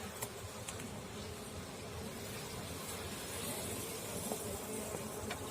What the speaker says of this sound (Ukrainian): Вон трутні навіть носять медок, дивіться, як гарно на крайній рамці